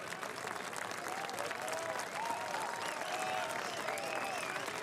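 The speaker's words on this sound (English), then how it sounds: "Warm applause, though." A crowd at a cyclo-cross World Cup race in Koksijde, Belgium, gives sustained, fairly distant applause, with scattered whistles and cheers in a steady wash of noise.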